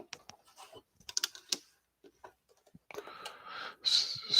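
Quick, irregular bursts of clicks from a computer keyboard being typed on nearby, with short pauses between runs of keystrokes and a denser clatter toward the end.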